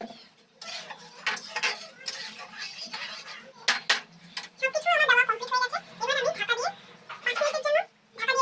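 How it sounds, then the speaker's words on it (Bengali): A utensil scrapes and knocks against a pot while sweet pulao is stirred, close clinks and scraping in uneven bursts, with a voice talking over parts of it. "দেখুন এবার আমি একটু নেড়ে চেড়ে দিচ্ছি।"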